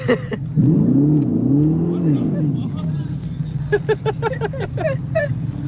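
A Dodge Charger Daytona's exhaust swells in a loud, near rev that rises and falls over about two seconds, then settles into a steady rumble while people chatter and laugh nearby.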